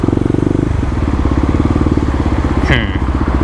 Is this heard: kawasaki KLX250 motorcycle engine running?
yes